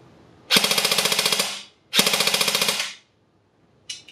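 Airsoft gun firing on full auto in two rapid bursts of about a dozen sharp snapping shots each, close and loud, separated by a short pause, with a faint click near the end.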